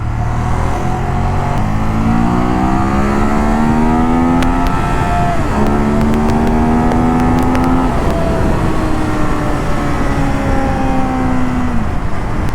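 A Ducati Monster 821 motorcycle in sport mode pulls hard through the gears, its engine note rising steadily in pitch several times with brief drops at each shift, loud and continuous close to the rider.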